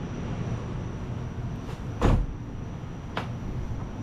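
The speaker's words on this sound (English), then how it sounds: "love the soft closed doors" A soft-close door on a 1997 Mercedes-Benz S500 (W140) pulls shut with a muffled thump, followed by a fainter click a moment later, over a steady background hum, with no talk.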